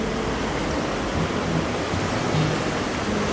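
Sea water washes in on a beach beside a broken bridge with a steady broadband roar of surf. It is loud and continuous with no clear breaks and no voices.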